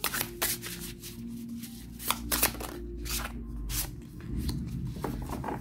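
Oracle cards are shuffled by hand, close up, making a steady run of soft riffling, flicking rustles with brief sharper snaps and no voices.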